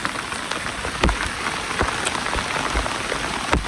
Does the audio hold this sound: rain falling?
yes